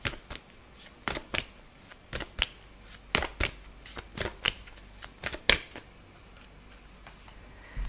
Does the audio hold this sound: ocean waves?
no